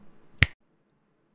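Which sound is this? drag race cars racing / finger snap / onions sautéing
finger snap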